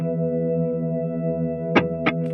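A TC Electronic Infinite Sample Sustainer effect pedal holds a steady, swelling sustained tone, with two short plucked attacks near the end.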